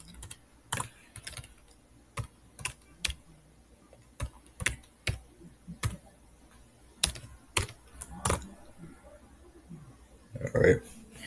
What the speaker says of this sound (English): So I'm just gonna type the IP address of mine's in.